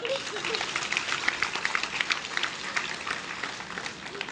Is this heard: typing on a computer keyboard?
no